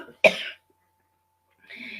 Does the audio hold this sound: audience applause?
no